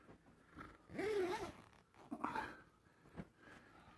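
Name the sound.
zipping up a Whitmor cloth utility closet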